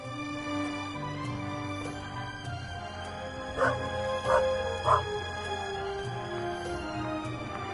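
A dog in the video game The Raven Remastered gives three quick barks over a sustained game music bed, moderately close and clear.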